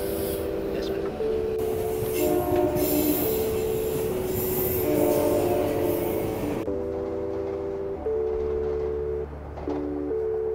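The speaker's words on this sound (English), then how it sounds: "I'm headed to the train now" A train runs along the rails, with metallic wheel squeals in sustained shifting tones over a low rumble and rattle, loud and close, easing somewhat partway through.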